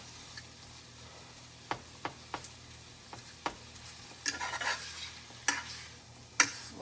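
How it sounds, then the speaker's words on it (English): Crab meat being mashed for stuffing, heard as soft, sparse taps and scrapes of a utensil against a bowl, quiet and close, with a few sharper clicks spaced irregularly across the clip. "We're going to take and smash that meat up as such."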